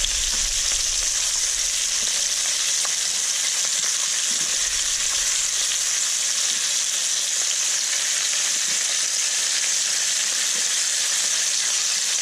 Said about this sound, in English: Now that was there frying for a while, I'm just going to add just the chunks of meat now.